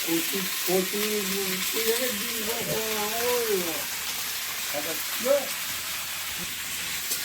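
Eggplant and green chili fry in oil in a pan during outdoor Sundarban village cooking. A continuous loud sizzle runs throughout, with a voice talking over it for the first few seconds.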